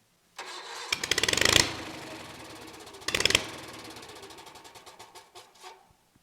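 A 23 HP Kohler small engine cranks with a rapid rising chug, fires briefly, cuts out, then cranks again after a pause and settles into a fast, steady, fading putter, close and fairly loud.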